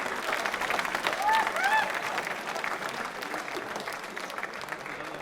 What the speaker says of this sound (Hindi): तालियां जोरों से बजाइए, जोरों से बजाइए।